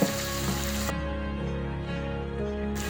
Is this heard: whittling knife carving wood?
no